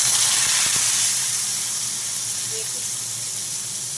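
Eggplant slices frying in hot oil with black cumin and dried chilli in a pan, a steady loud hiss and sizzle that settles slightly after the first second, with a voice talking over it.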